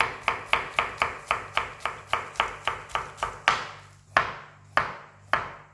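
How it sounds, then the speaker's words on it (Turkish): A knife finely chops vegetables on a cutting board in quick, evenly spaced strikes, then slows to a few separate, sharper chops near the end. "Malzemeleri çok ince ince doğrayacağız."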